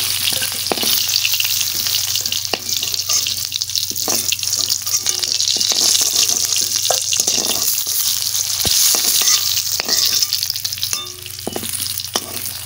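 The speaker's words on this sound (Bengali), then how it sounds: "ভাজা হয়ে গেছে, এবারে তুলে নিচ্ছি।" Food deep-frying in a pan of hot oil makes a loud, steady, close sizzle for the whole stretch, with small scraping and stirring knocks as the pieces are lifted out.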